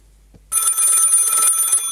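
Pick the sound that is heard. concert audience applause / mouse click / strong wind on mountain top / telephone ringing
telephone ringing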